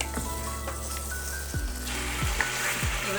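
Mutton with pointed gourd sizzling and frying in a pan, a steady close hiss broken by a few sharp stirring scrapes, with no talk.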